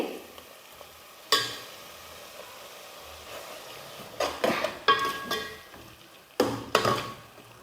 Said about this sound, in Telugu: అలానే పెరుగు కూడా వేసుకుంటున్నానండి.